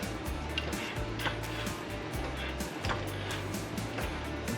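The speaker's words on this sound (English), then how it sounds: "we're going to start jacking this thing up" A jack pumps up a GM OBS truck in a steady rhythm of low mechanical strokes, each with a metallic click, repeating close by at a moderate level with no talk.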